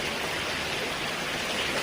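Heavy rain pours in a dense, even hiss that stays constant throughout, close and loud, with no talk.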